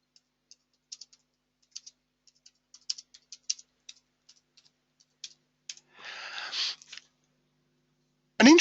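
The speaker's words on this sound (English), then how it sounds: "I'm just going to type a message to him." Typing on a computer keyboard: a run of light, irregular key clicks and taps over about six seconds, with a brief denser rattle of keys near the end and no talk.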